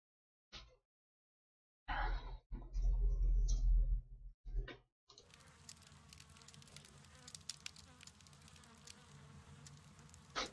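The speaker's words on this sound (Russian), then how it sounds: "Нормально пчелы летают по дому." In the Sherlock Holmes Crimes and Punishments video game, bees fly around a house with a thin buzzing drone among soft ticking, faint and steady, after several loud low bursts of game sound.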